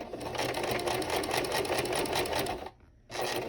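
A sewing machine stitches a tote bag strap handle in a steady, loud, fast run, pausing briefly near the end as the presser foot is lifted to pivot, then resuming.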